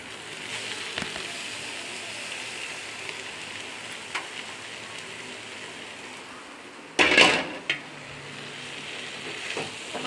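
Chopped potatoes go into a hot oiled pan, giving a steady sizzle of frying with a brief louder burst and clatter as they hit the pan, no talking.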